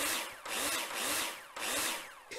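Power drill in the video game Builder Simulator, whirring in four loud, repeated bursts with brief dips between them, each a harsh buzzing spin heard alone.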